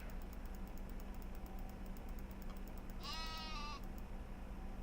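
A single clear bleat from a sheep in Farming Simulator 17 rises out of a steady background hum, lasting under a second and with no talking around it.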